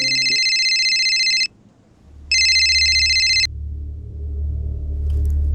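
A phone rings for an incoming call in two loud electronic bursts separated by a short pause, then stops and gives way to a low hum.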